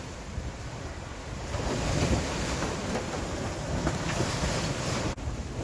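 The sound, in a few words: rough sea waves against a sailboat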